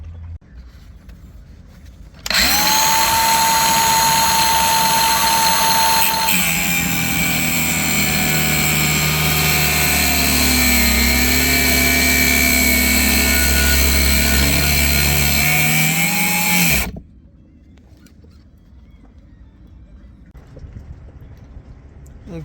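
A power saw cuts through a dinghy davit brace strut on a C&C 39 sailboat, a loud continuous whining cut lasting about fourteen seconds up close, then stopping abruptly into quiet background.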